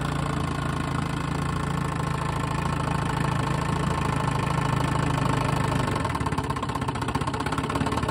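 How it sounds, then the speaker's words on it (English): A 7.5hp Mercury or Evinrude outboard motor idles low and even, a steady close-up mechanical drone with a constant beat that holds unchanged throughout, with no voices. "A nice motor, pulls down to a tick."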